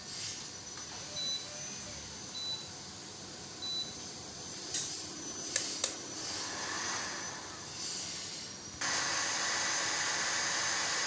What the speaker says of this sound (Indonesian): Ya, dan di sini kipas fan-nya juga langsung berputar ya.